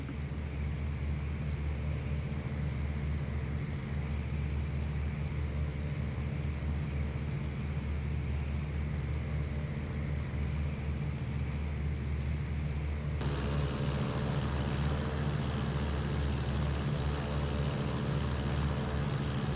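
A Mooney M20J light aircraft's engine drones steadily and loudly from inside the cabin while descending in flight, a constant, unbroken hum with no talking.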